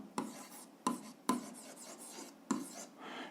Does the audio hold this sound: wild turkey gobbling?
no